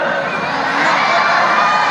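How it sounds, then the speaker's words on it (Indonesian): A crowd of students in a school hall shouts loudly together, a dense sustained roar of young voices chanting and cheering in unison at close range. "Teriak keras-keras bilang saya Banten."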